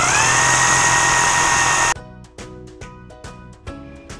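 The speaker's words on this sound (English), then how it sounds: "Drilling the holes is pretty straightforward." A power drill runs at full speed for a couple of seconds drilling holes in wood, then stops, followed by a series of rhythmic knocking taps.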